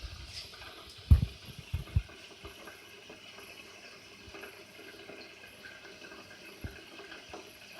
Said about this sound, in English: You can see the water is going much quicker than before